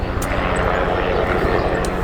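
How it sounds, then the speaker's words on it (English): Helicopter flying overhead above woodland, giving a steady, fairly loud rotor and engine drone for a couple of seconds. "Got a helicopter."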